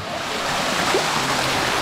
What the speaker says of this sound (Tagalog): Kapitan natin itong waterfalls na to.